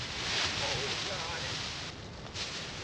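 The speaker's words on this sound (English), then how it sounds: "the space blanket's just catching the breeze like crazy" Space blanket flapping and rustling in gusty outdoor wind during a cold night camping without a tent, a loud broadband wash of fabric flutter and wind buffeting that drops briefly before surging back.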